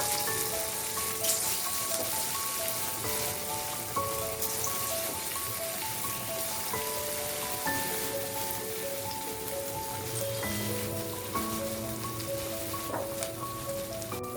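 Mutton pieces for Mutton 65 fry in hot oil in a kadai, a dense, steady crackle like rain that runs the whole time, with faint tonal music underneath.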